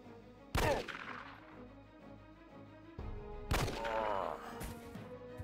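Gunfire in the video game Jagged Alliance 2: two sharp, loud shots about three seconds apart, each followed by a short echoing tail over quiet game ambience.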